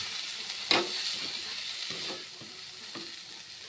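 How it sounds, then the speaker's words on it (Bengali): Potatoes being stir-fried in a spicy small-fish curry, a soft steady sizzle with scraping stirs and a sharp clink of the utensil against the pan, fairly quiet and close, no speech. "এবার আরেকটু ভালোভাবে কষিয়ে নেব এবং পরিমাণ মতো নুন দিয়ে দিচ্ছি"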